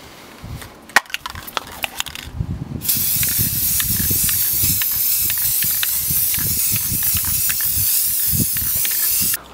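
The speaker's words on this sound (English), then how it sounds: "Now I'm going to spray the whole thing a copper colour." Copper-coloured paint hisses from an aerosol can over a plastic model octopus in one long, steady, close spray after a few light knocks and taps at the start.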